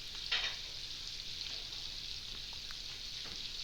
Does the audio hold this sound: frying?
yes